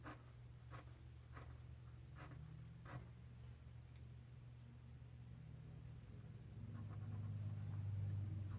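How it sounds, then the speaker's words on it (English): Pencil scratching on paper while writing out music rhythms, faint and close, in a few short strokes early on, over a steady low rumble that swells toward the end. "I'm just going to write in the rhythms here"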